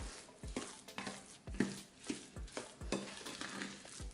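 A spoon stirs baking soda into a thick homemade body and hand scrub in a bowl, making quiet, close, rhythmic scraping strokes roughly every half second.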